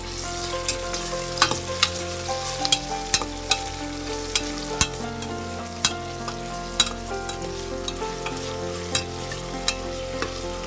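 Onions with salt sautéing in a pan, a steady sizzle with repeated sharp scraping strokes of a spoon stirring through the whole stretch, no voices.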